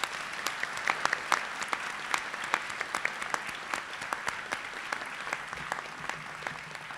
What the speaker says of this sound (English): join me in giving the class of 2022 its first round of applause of the day